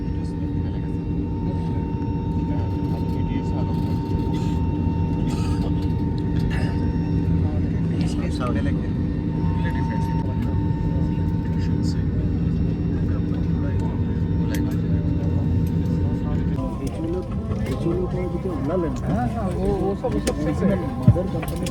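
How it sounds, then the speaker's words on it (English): Steady airliner cabin rumble as a plane lands at Guwahati Airport, a continuous loud engine drone that shifts in tone near the end, with a voice speaking over it. "Guwahati Airport landing ahitay."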